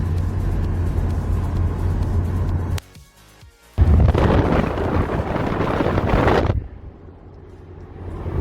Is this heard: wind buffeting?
yes